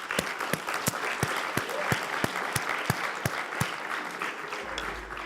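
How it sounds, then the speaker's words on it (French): Audience at a closing session of creative workshop days at Audencia business school applauding warmly; separate loud claps stand out at first over softer applause, then thin out toward the end. "je vous invite et je me joins à vous pour vous applaudir très chaleureusement."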